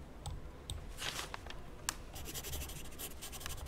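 A pen scratches across a paper form in Star Stable Online, with close, quiet strokes and short scribbles in an uneven rhythm, heard alone.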